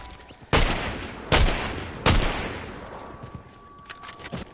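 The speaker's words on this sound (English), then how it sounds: "Whoa, he's got a fast shotgun." Shotgun blasts in Fortnite, a legendary shotgun fired rapidly: three sharp, loud booms roughly evenly spaced, each with a short decaying tail, followed by fainter distant shots.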